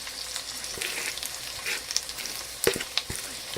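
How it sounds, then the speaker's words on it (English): Lentil burger mixture sizzling steadily in a hot pan like ground beef, a dense continuous fry with a few sharper pops and stirring scrapes, close and alone. "I'm going to fry it like I would beef"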